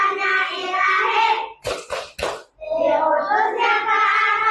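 Children in a classroom doing a rhythmic clapping chant, with a few sharp claps in the middle and sung chanting voices before and after.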